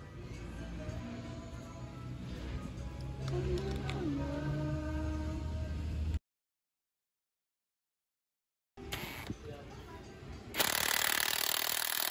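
A Mitsubishi L300 air-conditioning compressor clutch runs on test with a close, rattling mechanical chatter, cut by a few seconds of silence before a harsher, louder run resumes.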